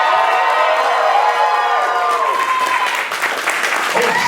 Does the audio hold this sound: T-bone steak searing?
no